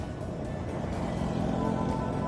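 Steady road traffic rumbles through Metro Manila near the elevated expressway works, a dense continuous drone of cars and trucks at moderate distance, with no talking.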